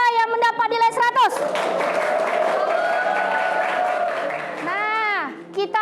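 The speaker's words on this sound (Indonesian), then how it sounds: "Tepuk tangan untuk kelompok 1 dan 2 yang mendapat nilai 100." Students in a classroom clap for their groups, a full burst of applause rising after a teacher speaks and holding for a few seconds before fading, with children's voices and chatter mixed in toward the end.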